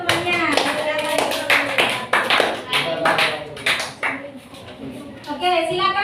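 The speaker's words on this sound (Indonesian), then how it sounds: "tepuk tangan dulu untuk temannya" Children in a classroom clap for a fellow student, with a brief burst of rhythmic claps that mixes with a voice and an adult's talk close by.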